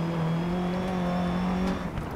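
A rally car's engine drones steadily at high revs on an uphill dirt stage in Tsavo, Dirt 3, holding a sustained tone that shifts slightly near the end, with no voices.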